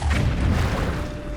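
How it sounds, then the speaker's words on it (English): A loud, deep boom from a Minecraft tank cannon explosion fills the short moment, with a heavy low rumble that fades out without any other sound. "you're going to end up blowing everything up"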